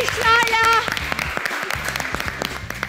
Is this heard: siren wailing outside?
no